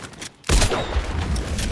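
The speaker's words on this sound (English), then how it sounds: "someone shot at me from this direction" Gunfire in Fortnite ranked Zero Build play: after a brief quieter lull, a sudden loud burst of rapid shots breaks out and keeps crackling densely to the end, close and harsh.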